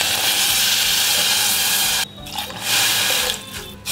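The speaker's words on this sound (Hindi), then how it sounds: "अब इसके अंदर डाल देंगे 2 गिलास पानी" Two glasses of water are poured into a pot of sweet corn soup on the stove: a loud, close, rushing pour lasts about two seconds, breaks off, then a second strong pour follows and trails away.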